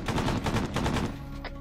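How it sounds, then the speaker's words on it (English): Heavy machine gun fire in a military combat video game, a rapid sustained burst of close, loud shots that runs for over a second before tapering into a lighter, sparser rattle. "There's heavy machine gunners at degree 200."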